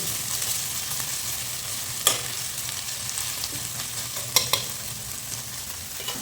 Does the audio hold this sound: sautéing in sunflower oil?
yes